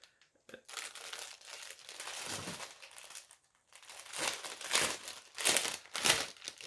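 Plastic packaging of Animal Crossing stickers crinkling and crackling up close in several loud bursts separated by short pauses, with no talking.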